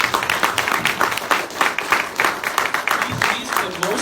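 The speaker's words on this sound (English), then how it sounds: "let's give these guys a round of applause." Applause from a convention audience for a presenting team, a moderate burst of clapping with crowd murmur and possible voices mixed in, steady over a few seconds.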